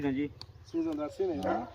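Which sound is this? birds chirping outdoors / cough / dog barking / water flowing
dog barking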